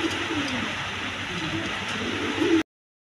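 Soft repeated coos from a pair of red German Silk pigeons sit under a constant broadband hiss, ending with a slightly louder coo just before an abrupt cutoff.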